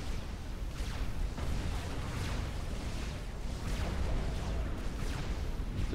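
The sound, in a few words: Oblivion turret destroyed, explosion in video game Supreme Commander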